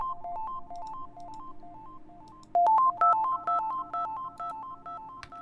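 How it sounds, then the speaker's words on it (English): A sine pluck synth plays a bright, plucky melody of short repeating notes over a low sustained backing layer in a beat, growing louder and busier halfway through. "this is a sine pluck."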